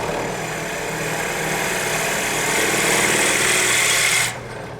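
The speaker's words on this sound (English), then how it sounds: "once I've drilled this down to the depth I need" Drill boring slowly into wood for a cigar holder: a loud, steady, continuous whine that holds nearly level, then drops off abruptly near the end.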